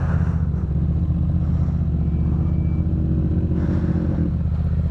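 A custom car and a motorcycle race side by side, their engines droning loud and close in a sustained, steady roar with rough mechanical clatter, no voices over it.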